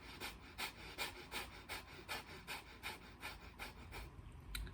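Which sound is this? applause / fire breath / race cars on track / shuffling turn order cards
fire breath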